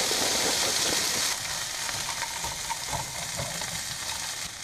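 O'Brien potatoes hit hot butter in a pan while cooking in an RV, a loud, close, hissing sizzle that eases slightly after the first second and then continues steadily.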